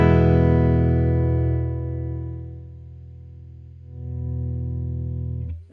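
An electric guitar chord played through a Signal Cheyne Sirius parallel blender rings out, thinning as the dry and wet signals cancel out of phase, then swells back before cutting off, with no talk.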